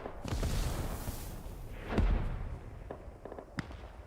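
Distant explosions in the Squad 44 war video game, several dull booms and crackling blasts rolling one after another over a rumbling battlefield background, with no speech.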